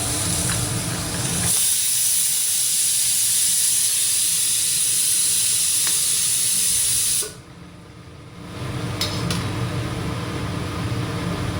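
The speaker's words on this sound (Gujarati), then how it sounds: "વડા તળાઈ રહ્યા છે." Dal vada lentil fritters deep-frying in hot oil, a loud, continuous hissing bubble that drops sharply for about a second partway through and then returns.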